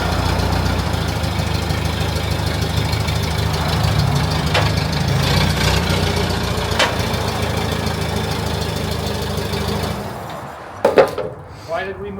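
A Hyster H100XM forklift engine runs with a steady, rough mechanical rumble while people talk over it, followed by a few sharp clanks before the engine noise drops away.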